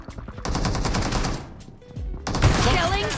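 Rapid bursts of automatic uzi fire in a multiplayer shooter video game, a dense rattling stream of shots broken by a short pause, then more gunfire with in-game effect sounds and a voice faintly beneath.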